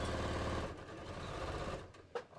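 A sewing machine stitches a bodice, running loud and steady at first, then slowing and fading before a small click near the end.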